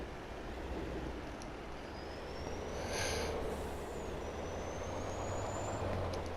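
Steady truck engine drone from Farming Simulator 22 on a snowy road, a continuous low rumble with a faint high whine rising across it, no talk.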